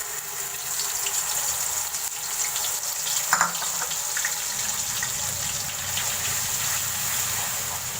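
Ginger, garlic, onion and green chilli paste frying in hot oil, a steady loud sizzling hiss with a brief clatter partway through, no talking.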